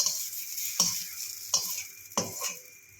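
Onions frying in oil in a pan for a spicy onion pickle, with a steady close sizzle and several sharp stirring scrapes of a utensil against the pan, all with no talking.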